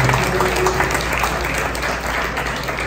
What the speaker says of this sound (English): Can we give a round of applause to the great job.